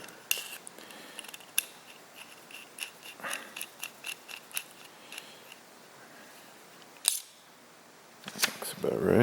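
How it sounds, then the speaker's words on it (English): A handheld screw shortener made from tubing cuts a screw on a micro drilling attachment: a run of short, crisp snipping clicks close by, with a few louder snaps near the end. "we're gonna use the handy dandy screw shortener"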